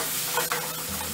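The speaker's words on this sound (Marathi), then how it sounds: "मसाला चांगला 5 ते 7 मिनिटं परतून घ्यायचा आहे आपल्याला." Masala sautés in a little oil in a pan while stuffing for a black pomfret fry is prepared, giving a steady close sizzle with a brief stirring scrape partway through.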